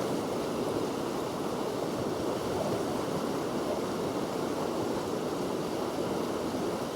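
Floodwater pours through the River Waveney as the tide rises, heard as a constant, even wash of rushing water. It stays steady and moderately distant throughout, with no voices.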